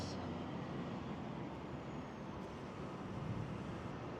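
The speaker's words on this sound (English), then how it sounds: "Guelph Transit bus." A Guelph Transit city bus rolls along a road in a big-box shopping area, a steady broadband rumble of engine and tyres mixed with general traffic noise, fairly close and continuous throughout.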